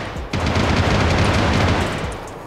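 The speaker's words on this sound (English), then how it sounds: "gotta be shooting zombies" Gunfire aimed at zombies in DayZ, a loud, dense burst of rapid shots that continues steadily with little pause.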